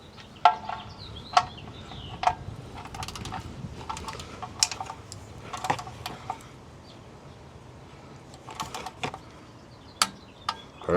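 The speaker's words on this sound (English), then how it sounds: "Got my torque wrench." A torque wrench tightens the oil drain plug of a 2019–2024 Toyota RAV4 during an oil change, making sharp, close metallic ratchet clicks in uneven bursts that stop and start over the course of several seconds.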